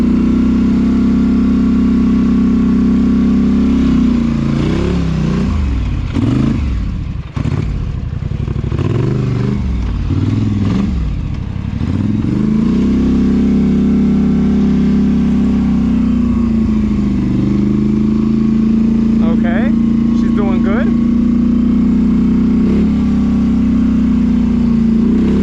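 A straight-piped four-wheeler rumbles loudly and continuously over sand dunes, its raw exhaust droning close by with a few revs rising and falling mid-way.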